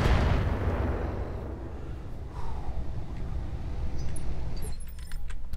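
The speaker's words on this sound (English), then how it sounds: "13 landmines going off" Landmines detonating in the mech combat game Roguetech, a dense rumbling barrage of deep explosions rolling together continuously, with crackling debris and a sharper burst of impacts near the end.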